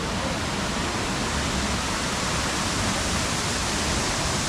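A waterfall in Gangtok, Sikkim roars as a steady, dense broadband rush of falling water, close and loud without letting up.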